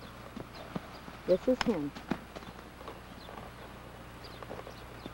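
An imported Friesian gelding's hooves clip-clop in a brief burst of close, hard steps partway through, with quieter footfalls and a neigh-like call around them while someone speaks over the scene.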